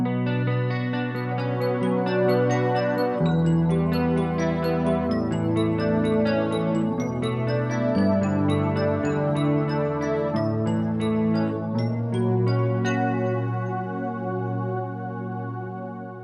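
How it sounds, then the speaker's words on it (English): Sustained bell-like synth keyboard tones from a Roland GR-55 guitar synth, faded in and out with an expression pedal, swell and fade over a steady accompaniment, rich and layered, with no voices. "I'm going to use the expression pedal to fade the keyboard sound in and out"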